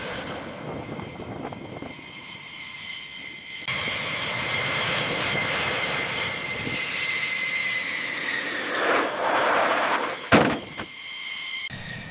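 A fighter jet, an F-15 or F-16, on final approach for landing gives a steady, loud engine roar with a whining tone that swells midway and then fades before a brief rumble.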